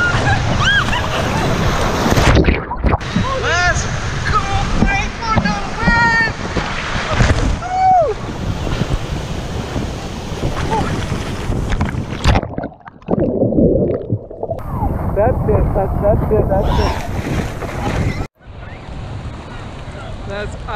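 Surf rolls in at Santa Monica Beach on a July 4th outing, a loud continuous wash of waves with heavy wind buffeting the microphone, while children's voices and chatter ride over it and the roar briefly drops out twice.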